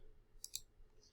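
Two quick, faint computer keyboard key clicks from a Control-C, Control-V copy-and-paste shortcut, close together and alone against a quiet room.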